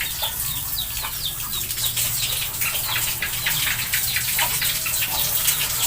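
Weak-pressure tap water spraying steadily while a chicken cage is cleaned, with hens clucking and wings flapping close by throughout.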